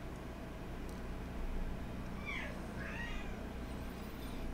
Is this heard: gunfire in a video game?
no